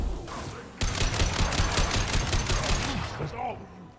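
High-impact gunshots in a sci-fi video game, a sudden burst of rapid, sharp shots firing in a fast rhythmic volley after a quiet lead-in, loud and close, then tapering off.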